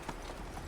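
Horse hooves clip-clopping at a steady walking pace in the video game Assassin's Creed Valhalla, over a low rumbling background, fairly quiet and brief.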